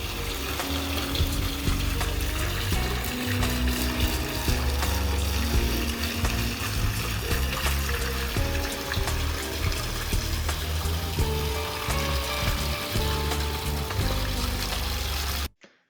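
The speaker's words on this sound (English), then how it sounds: "which I had to fill up the plasma cutter with water" Water pours steadily into a plasma cutter's water table in a workshop, a continuous rushing, hissing flow that stays loud and even for about fifteen seconds before cutting off abruptly.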